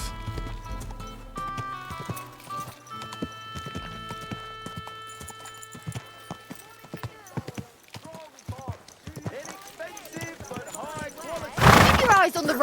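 Hooves of a ridden horse clip-clop steadily along a road, close and clear, mixed with music and spoken voices, ending in a loud burst of noise.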